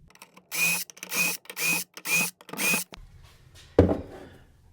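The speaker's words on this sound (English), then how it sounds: "Now we can just drill the rest of these remaining holes." Power drill boring a series of holes in a wooden cabinet side panel during cabinet building, five evenly spaced bursts of high whirring about a second each, close and loud, followed by a single sharp knock.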